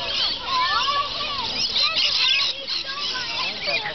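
Dense, overlapping honking bird calls, goose-like, continuous and fairly loud from a large flock, with some voices mixed in.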